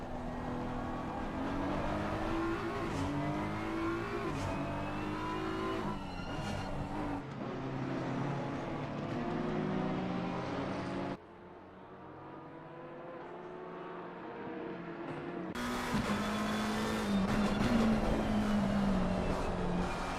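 Race cars lap Brands Hatch in Assetto Corsa Competizione, their engines droning and whining as they shift up and down through the gears. The sound cuts abruptly between camera views, with one quieter, more distant stretch midway.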